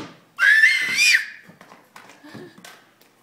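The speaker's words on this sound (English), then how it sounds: "And she loves to scream." A baby girl, almost one year old, lets out a loud, high-pitched squealing scream that rises and falls for nearly a second, followed by softer babbling and small vocal sounds at home.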